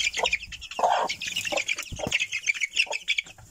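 A young naked neck hen clucking up close in a farmyard coop, with short, busy, repeated clucks and a little wing flapping, no talk.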